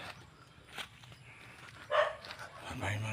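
A few faint, distant dog barks over quiet outdoor ambience on a rural farm along a rice paddy dike, with soft footsteps and a brief rustle nearby.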